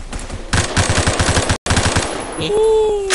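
Phantom Forces gunfire rattles in a rapid automatic burst, loud and close, breaks off in a brief cutout, then gives way to a rising whine and a tonal game sound.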